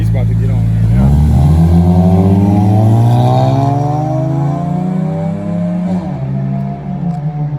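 A Honda Civic revs hard and accelerates at a night car meet, its engine note climbing steadily through the gears, loud and close, with people talking and shouting around it.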